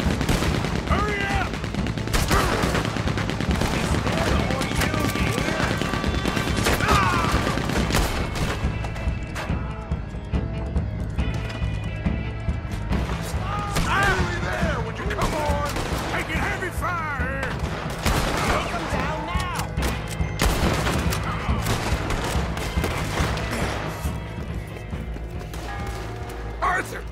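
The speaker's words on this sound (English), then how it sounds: "I don't know how long I can hold this Gatling" Rapid automatic Gatling gun fire in a Red Dead Redemption 2 bank shootout, loud and sustained through the whole stretch amid scattered gunshots, clattering hooves and shouting voices.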